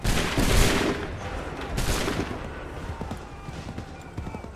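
An Assassin's Creed III musket volley erupts in loud booming shots fired on command, followed by a second burst around two seconds in, then fading crackle and rumble.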